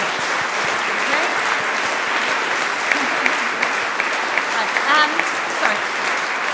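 At an anti-Brexit conference in northern England, a packed hall audience claps in steady sustained applause, dense and loud throughout, with brief voices and cheers rising through it.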